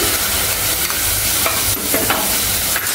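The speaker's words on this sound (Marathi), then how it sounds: "सगळं एकजीव करून घ्यायचंय छान।" A spoon stirs field-bean rice (val/dalimbi bhaat) in an oiled pan, giving close, continuous scraping and sizzling frying sounds with occasional louder scrapes, and no voices.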